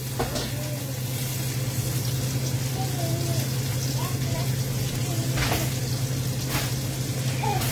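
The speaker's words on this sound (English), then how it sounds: "now we gotta do this side here. Last end sear." Pork ribs searing in a pan on a stove top, a steady low sizzle with faint crackles beneath a constant hum, while someone talks.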